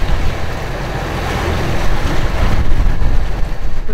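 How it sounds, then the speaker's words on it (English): Strong wind and surf on open ocean while sailing off the tip of Greece toward Malta, a steady broadband roar of gusting wind and breaking waves that swells louder toward the end, with no talking. "The wind's picked up massively."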